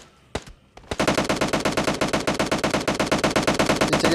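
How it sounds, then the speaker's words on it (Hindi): Rapid automatic gunfire in the mobile shooter PUBG Mobile Lite: after a few separate shots, a long, steady burst of loud, evenly spaced rounds rattles on without pause. "पीछे की साइड से फायर के साउंड आ रहे थे मुझे"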